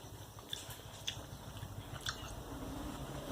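Someone chews a mouthful of crunchy fresh tomato mixed with rice and salty bagoong in an Ilocano dish. A few crisp, wet bites land close up over steady mouth noises.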